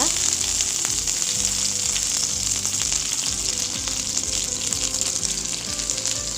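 Loud, dense sizzling of curry leaves dropped into hot oil over a medium flame, a continuous crackling hiss with some stirring underneath and no talking.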